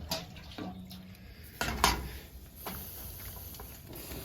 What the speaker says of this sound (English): Let's get some more water in that real quick.